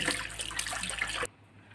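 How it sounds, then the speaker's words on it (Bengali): Peeled raw mangoes being rinsed for a sweet-sour pickle: a short burst of splashing, running water for about a second, then quiet. "আমগুলো ছাল ছাড়িয়ে এবার এটা ধুয়ে নেব"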